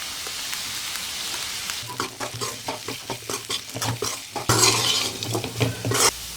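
Potato fry with chili powder is sautéed in a pan, with a rhythmic series of close spatula scrapes and taps over a soft sizzle that swells louder near the end, no talking.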